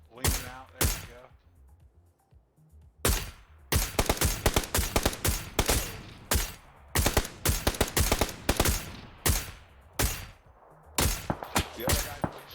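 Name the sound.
gunfire in the video game PUBG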